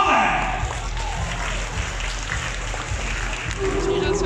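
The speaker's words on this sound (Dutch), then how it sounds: "Geef een applaus!" At a Halloween Fright Nights show in the Walibi Holland theme park, an audience applauds a performer. The scattered, rain-like clapping runs under a speaking voice and crowd noise.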